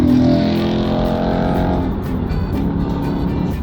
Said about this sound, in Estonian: Auto sõidab, autopiloot. Toimib väga hästi.